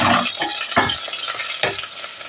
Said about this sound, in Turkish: Bir iki dakika soğan böyle bir kavrulsun.